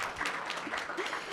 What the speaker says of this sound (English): Can we please clap for him?